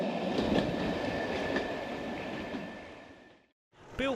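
British Rail Class 33 diesel locomotive, a Southern Region mixed-traffic Sulzer Type 3 engine, rumbling past with rhythmic wheel clatter and a steady high whine, fading away before a short squealing burst at the end.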